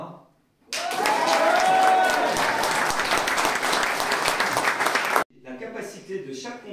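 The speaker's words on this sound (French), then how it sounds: "Et mon rôle va être de vous faire applaudir." A live crowd at an improvised-music show at the Heliodome breaks into loud, dense applause after a brief quiet start, holding steady for several seconds before cutting off abruptly, followed by softer murmuring.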